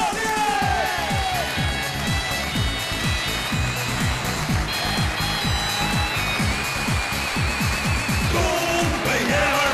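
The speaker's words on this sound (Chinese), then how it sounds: "来掌声有请这位小伙子" A studio audience on a televised dating show claps in a steady, dense round of applause over upbeat music, with some cheering and a host's voice mixed in.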